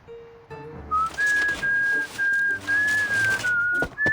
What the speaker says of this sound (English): She steps exactly as directed and whistles.